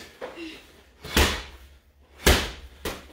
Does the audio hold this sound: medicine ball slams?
yes